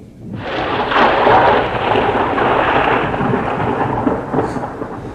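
A loud thunderstorm at night: heavy rain pours steadily while a deep rumble of thunder rolls through, close and enveloping, with no voices.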